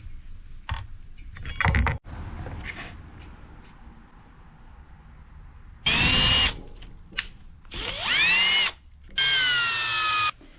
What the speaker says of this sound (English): now you're going to use the small drill bit to get those other 2 small holes drilled.